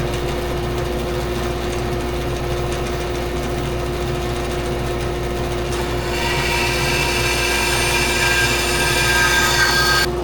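Bandsaw ripping wooden corner posts for a large rustic farm lantern, a steady loud motor drone with a brighter blade-in-wood whine rising partway through and continuing to the end.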